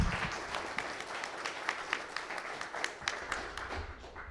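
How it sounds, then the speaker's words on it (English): Audience applause for conference speakers, a moderate crowd clapping steadily and fairly quietly for several seconds, fading slightly at the end. "a big round of applause again for our speakers"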